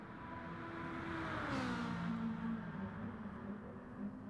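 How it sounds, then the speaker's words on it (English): A naturally aspirated 12-cylinder Ferrari revs, its exhaust rising in a smooth climbing whine then settling back, moderately loud and continuous with no talk over it. "It's a pretty muted sound out of Doug's Alpha versus Big Red's Ferrari, which is naturally aspirated."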